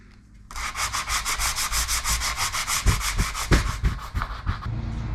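Sandpaper scrubs by hand across a pitted metal Frisco-style motorcycle gas tank in quick, rhythmic back-and-forth strokes, close and loud, each pass a coarse rasping swish with a few heavier knocks midway.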